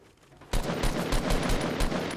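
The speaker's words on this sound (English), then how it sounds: "You're being sniped at from another direction." Sniper gunfire in the video game Fortnite, a burst of loud, sharp shots in quick succession that starts abruptly after a quiet moment, close and dense, with no talking.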